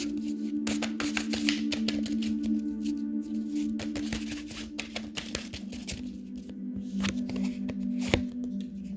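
Tarot cards gathered up and handled after spilling, giving a steady run of close, dry papery shuffles and flicks with sharp card snaps, over a constant low electrical hum.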